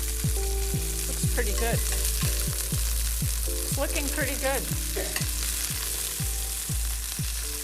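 Steak sizzles steadily in a stainless steel pan, a continuous close frying hiss with a regular tapping rhythm throughout, while a voice speaks briefly over it.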